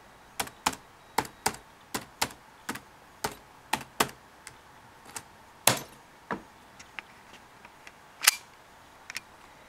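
Keys clicking on a Compaq Presario A900 laptop keyboard while a password is entered, a quick uneven series of sharp, close taps with brief gaps between bursts.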